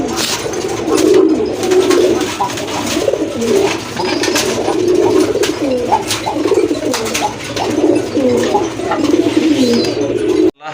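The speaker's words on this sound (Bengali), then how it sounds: "এটা হচ্ছে আপনার কালো গলা গিরিবাজ কবুতর" Fancy black-necked Giribaz pigeons cooing continuously in a loft, a dense, close chorus of throaty rolling coos with faint chirps layered throughout.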